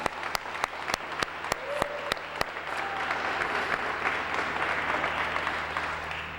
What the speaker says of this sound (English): I want everybody to applaud them as loud as you can right now